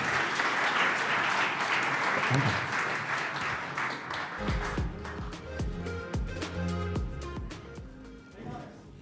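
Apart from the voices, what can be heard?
audience applause for a presenting team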